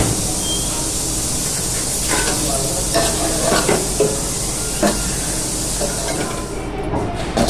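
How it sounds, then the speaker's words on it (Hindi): Cooked bitter gourd and dal being scooped from a hot kadhai into a metal plate: continuous scraping and soft clattering with a steady sizzling hiss underneath, close and fairly loud throughout. "तो पहले मैं इनको अलग अलग निकाल लेती हूँ, उसके बाद तलूँगी। तो इसी थाली में मैं निकाल लेती हूँ।"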